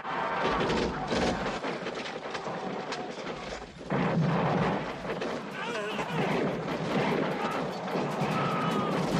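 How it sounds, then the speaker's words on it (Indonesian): Battle sounds from a film: repeated booms and blasts with crashing debris and shouting, loud and chaotic throughout. "Terdengar suara ledakan dan teriakan kesakitan dari kedua belah pihak."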